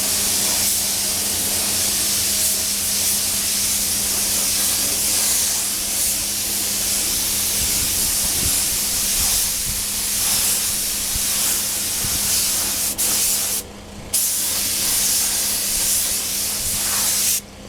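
A spray gun lays pearl paint on Yamaha FZ600 motorcycle fairing parts outdoors, a close, continuous hiss that runs nearly unbroken, briefly cutting out once near the end.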